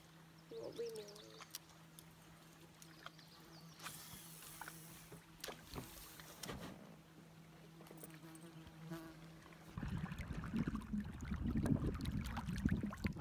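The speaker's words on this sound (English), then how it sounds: "Bee's back. A bee is chasing Crystal." A bee buzzes around a canoe floating on a lake in the Boundary Waters, a steady insect drone that is close and fairly quiet, joined later by louder water and paddle noise and brief voices.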